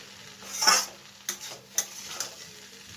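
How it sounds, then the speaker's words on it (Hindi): Egg noodles are stirred in a wok with soft scraping strokes and a light sizzle, several distinct stirring sounds spaced out over a few seconds, close and fairly quiet. "अगर लोहे की कढ़ाई में आप बनाते हो या नॉन स्टिक की कढ़ाई में तो नूडल्स बिल्कुल भी नहीं चिपकता है, कितनी अच्छे से मिक्स हो जाती है"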